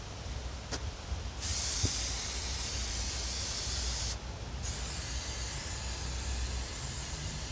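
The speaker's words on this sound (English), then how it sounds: "I clean these out with brake clean or carb cleaner, whatever's cheaper." Brake cleaner or carb cleaner spraying steadily from an aerosol can at a sawmill, a long, even hiss with two brief interruptions, set against low background rumble.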